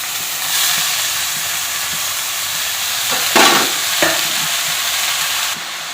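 Chopped spinach sizzles and fries in coconut oil with mustard seeds and onion, a steady close hiss broken by a few louder bursts of stirring and scraping mid-way, with no voices.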